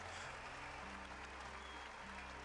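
Crowd applause rises as a steady, dense wash of clapping, broad and continuous throughout, with no voices over it.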